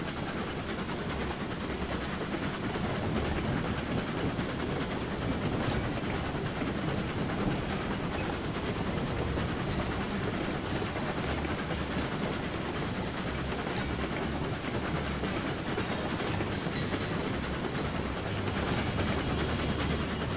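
Steam locomotive from the Railroads Online game, regulator and Johnson bar fully open, hauling raw iron: a steady, dense rumble and chuff with faint clickety-clack running unbroken throughout, no voices.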